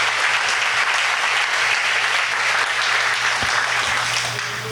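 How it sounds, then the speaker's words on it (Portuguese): A church congregation applauds hard and steadily, a dense wash of clapping hands that carries on without a break for several seconds. "Aplauda esse Deus bem forte."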